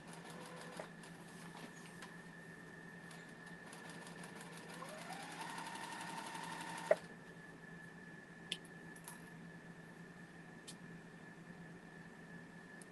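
A sewing machine stitches quilt blocks inside an RV, a quiet, even mechanical whir running steadily for several seconds, then stopping with a couple of small clicks, and no talk.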